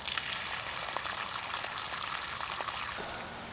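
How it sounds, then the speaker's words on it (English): Water draining from a rain barrel out through its spigot, a steady close gushing flow that holds for about three seconds and then eases slightly, no talking. "So I'm gonna let this drain out."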